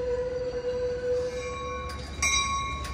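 The out-of-service Amtrak San Joaquin train 711, led by locomotive 8306, rolls past at Oakland Jack London Square with a steady heavy rumble. Sustained metallic wheel squeal rings over the rumble, and a few brief clanks come late.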